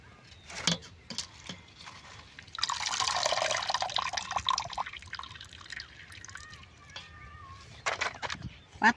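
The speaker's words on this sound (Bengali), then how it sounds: "পাতাকপিটা ধুয়ে চালন মধ্যে আমি জরা দিব।" Water splashes and trickles from freshly washed, chopped cabbage set in a colander to drain. A louder rush comes in the middle, with scattered drips before and after, and a voice is heard at times.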